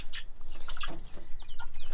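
Leghorn chickens, including a red-combed rooster raised from a chick, clucking in short close bursts alongside faint chirps against a steady background hum.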